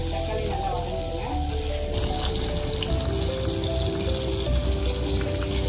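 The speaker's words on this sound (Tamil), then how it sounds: "தக்காளி நல்லா வதங்கிடுங்க." Tomatoes sauté in a pan for pirandai chutney, a steady loud sizzle and crackle of oil with tonal hum underneath, continuous throughout.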